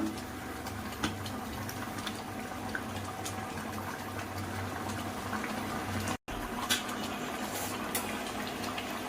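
A pot of ladia fish curry bubbles steadily after being stirred, a continuous low boiling burble with faint pops, holding even throughout with one brief dropout near the end.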